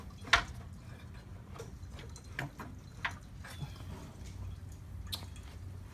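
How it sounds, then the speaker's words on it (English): Coolant drips from the radiator drain of a Celica GTS into a pan, making irregular small taps and drips over a low background rumble. "this drain right here is still pouring some coolant out"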